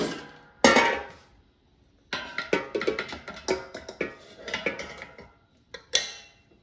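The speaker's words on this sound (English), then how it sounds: "And now I'm going to add the pan to the air fryer basket." A metal cornbread pan is set into an air fryer basket with a sharp clank, then a run of quick metallic clinks and taps as it settles, close and clear, with a final knock.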